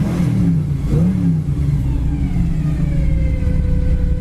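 A 1958 Chevrolet Impala two-door hardtop with a gear drive revs in neutral, its engine note loud and close, rising then settling into a steady rumbling drone with a whining overtone.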